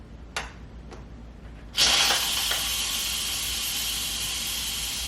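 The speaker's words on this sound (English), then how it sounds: "I'm gonna go ahead and press the release button to release the steam and the pressure" Steam bursts from a pressure cooker's release valve at the press of its button while soup cooks, a couple of faint clicks first, then a loud sudden hiss that holds steady and strong to the end.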